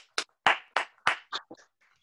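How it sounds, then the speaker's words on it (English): Scattered clapping for children at a school celebration assembly, a handful of separate sharp claps spread over two seconds, close and moderately loud with no talk. "Big round of applause for all of those children,"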